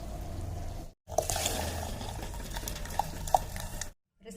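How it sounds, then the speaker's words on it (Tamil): Soaked rice and lentils tipped into a pot of boiling water for dhal kichadi, giving a soft splashing pour and bubbling over steady low stovetop rumble, with a brief pause near the start and a few small clinks. "இப்போ இந்த ஊற வச்ச அரிசி பருப்பை அதில் சேர்த்துக்கலாம்."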